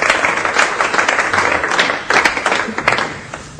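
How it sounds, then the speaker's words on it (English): An audience claps for a young woman called up to the front of a music class, a dense burst of applause lasting a few seconds and fading out. "You can applaud."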